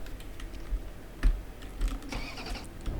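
A Honda Accord engine in the Rigs of Rods game stalls and is restarted, heard as a rough mid-pitched engine churn with clicking, knocking bursts throughout and a brief whine near the end.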